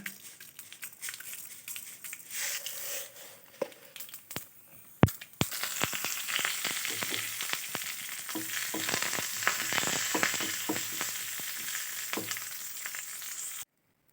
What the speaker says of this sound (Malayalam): ഇനി നമുക്കൊന്ന് കടുക് പൊട്ടിച്ചെടുക്കാം